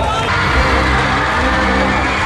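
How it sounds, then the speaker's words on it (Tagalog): A large crowd shouts and cheers loudly and continuously at the Wagah border ceremony between India and Pakistan, a dense roar of yelling voices with no pauses. "Malalakas na sigawan"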